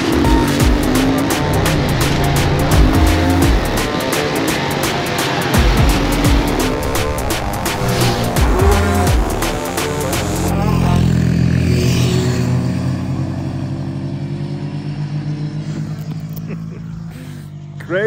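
A CF Moto MT450 adventure motorcycle is ridden, its engine roaring loudly under strong wind rush, then fading into a lower steady drone and wind noise for the second half.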